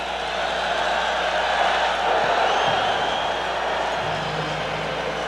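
Roughly 40,000 football fans half fill the Silverdome, their crowd noise a broad, steady, distant roar that stays even and moderately loud from start to finish, with no distinct cheers standing out.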